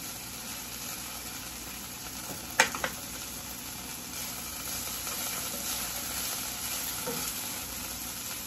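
Zucchini and mushrooms cooking for homemade hibachi give a soft, steady sizzle, fairly faint and even throughout, broken once by a short clatter of a utensil.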